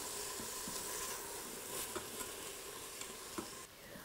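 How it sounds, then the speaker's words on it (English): Vegetables for jambalaya sizzling steadily as they sear in a pot, with a few scraping stirs and clicks of a utensil against the side; quiet and close. "I can hear it starting to sear, so I'm just going to give it a couple of stirs."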